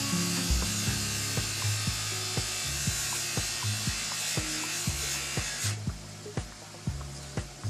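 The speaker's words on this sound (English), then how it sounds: "I realize the buffer makes some noise." A buffer polishing wheel hums steadily and close, with a low electric drone and a rhythmic ticking pulse of roughly two beats per second running through it.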